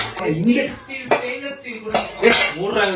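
Stainless steel kitchen pots and vessels clank and clink in several sharp knocks spread across a few seconds, close by, with some rustling between hits.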